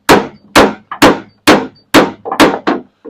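Sharp hammer taps work out a stubborn dent in a car door panel, seven firm metallic-wooden knocks in an uneven rhythm, close and loud with short ringing tails and no talk.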